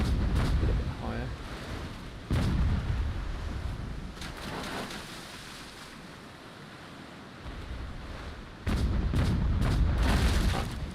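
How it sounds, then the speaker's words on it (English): Ship cannons fire single shots in World of Sea Battle, each a deep boom over a constant wash of waves and wind, with a few heavy bursts standing out. "I'm shooting single shots instead of broadside here because I have a skill."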